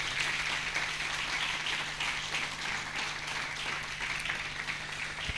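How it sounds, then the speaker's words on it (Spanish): A church congregation applauds during an evening worship service, a steady wash of many hands clapping at moderate distance, continuous and fairly even throughout with no voices standing out. "Dele un fuerte aplauso al Señor en esta noche hermosa."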